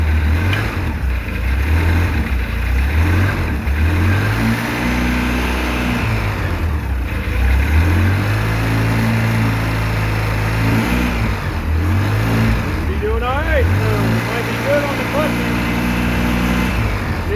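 A 2013 Polaris RZR 800s engine, just rebuilt, starts up and revs repeatedly, its pitch rising and falling in several loud bursts close by, with someone talking over it.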